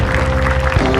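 Audience applause at a public event honouring the Jakarta governor, a dense burst of clapping from a crowd lasting only a moment, loud and close.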